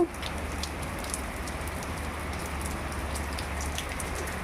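Steady rain falling in Chennai, a continuous even hiss of drops on surfaces with a low constant hum beneath, fairly close and without pause or speech.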